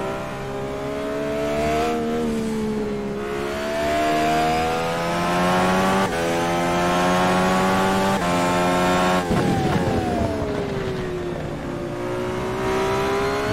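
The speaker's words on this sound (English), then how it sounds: "He moves up through the gears here and now into the turn." An Indy race car screams along onboard at the Cleveland race in the Indy Killer Pro Series. Its engine climbs in pitch, drops at each upshift and keeps a loud, continuous howl into the turn, with no voices.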